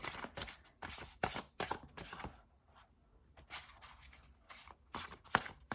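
Tarot and oracle cards being shuffled and pulled from the deck, producing close, crisp riffling bursts separated by short pauses and soft card slaps.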